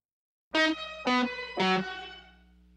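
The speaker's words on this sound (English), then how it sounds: "A shimmer reverb can help bring air to the sound," Three distorted guitar chords strike in quick succession through a Strymon shimmer reverb, each ringing with a bright, shimmering tail that fades out after the last.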